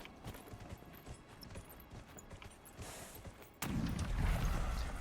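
A horse's hooves clip-clop in Dragon Age: Inquisition, a steady rhythmic patter at moderate distance before a louder burst of in-game ambience takes over near the end.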